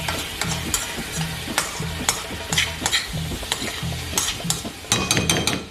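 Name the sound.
mixing a dish with red pepper in a pan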